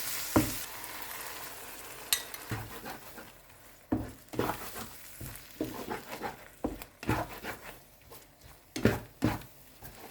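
Egg frying in a hot pan with bitter melon and tomato, a steady sizzle broken by repeated sharp clacks and scrapes of stirring, close and fairly loud.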